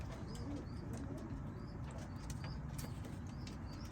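Low, soft cooing of pigeons or doves over a dense, steady outdoor background, with faint higher chirps and occasional wing flutters.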